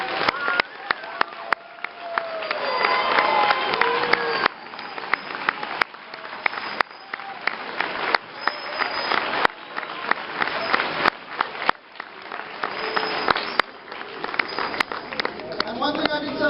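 A big round of applause from a large school band concert audience, sustained and loud, with whoops and crowd voices mixed into the continuous clapping.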